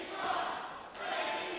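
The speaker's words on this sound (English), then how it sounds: "And listen to this crowd." A wrestling arena crowd cheers and roars in a brief, sustained swell at an event featuring women's wrestling, with a dip and then a rise again.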